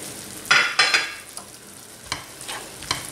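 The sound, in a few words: stirring a vegetarian mixture with ginger in a pan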